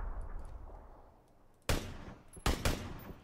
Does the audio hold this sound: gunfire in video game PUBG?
yes